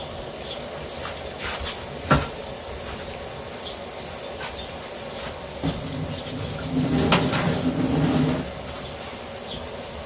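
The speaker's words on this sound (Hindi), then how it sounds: "तो अब यहाँ पर हम अपने चावल डाल देंगे।" Washed rice is poured into boiling water in a pressure cooker. A low bubbling hum runs under a few soft knocks, and a louder splashing stretch of pouring and stirring comes near the end.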